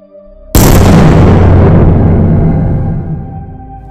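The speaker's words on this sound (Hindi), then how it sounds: "अचानक इस छोटे से गोले में एक महाविस्फोट हुआ।" A massive explosion sound effect standing in for the Big Bang in a space documentary bursts in suddenly at full loudness, then rolls into a long, deep rumbling roar that slowly fades.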